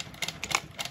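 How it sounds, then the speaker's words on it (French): A sewing machine set to a short stitch runs briefly while attaching a zipper pouch's lining to the outer fabric, giving a faint, quick mechanical rattle. "Et on va maintenant coudre avec une marge de 6 mm pour attacher la doublure à l'extérieur."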